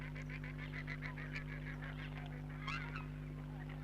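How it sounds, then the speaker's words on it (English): A mountain duck calls in a steady series of repeated honking notes at a wetland lake, with a louder burst near the end, all over a constant low hum. "The mountain duck is curious about what's going on."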